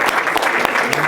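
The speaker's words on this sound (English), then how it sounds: "give yourselves a round of applause" A conference audience applauds at the close of a session, a short burst of loud, even clapping from a large room of people.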